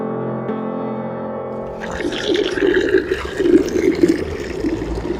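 Icy spring water gushes and splashes out at Montese, a steady close-up rush of flowing water that begins after a short musical lead-in and builds in loudness.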